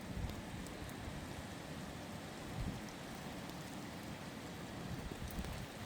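Heavy rain falls hard in a windy February storm in the Isère. It is a dense, continuous hiss and patter of drops on surfaces, fairly faint overall, with occasional louder gusts.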